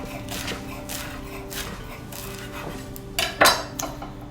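A sharp knife slicing fresh basil very thin on a board gives soft, irregular taps, with a few louder knocks near the end and no one speaking.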